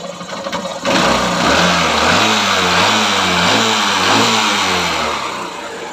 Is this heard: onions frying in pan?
no